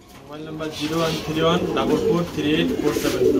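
Pigeons coo steadily at a pigeon farm in Gazipur, a chorus of soft, rolling calls close by, with someone talking over them throughout.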